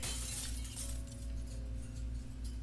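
Glass shatters in the horror video game Ib, a bright crashing burst with scattered tinkling over a low, sustained game-music drone.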